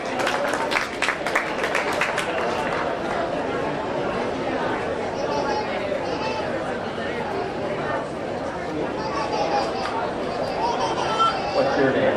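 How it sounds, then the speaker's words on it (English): Audience applause at a county fair swine show, a steady wash of clapping mixed with crowd chatter and murmuring voices, fairly loud and continuous throughout. "Let's give Riker a round of applause."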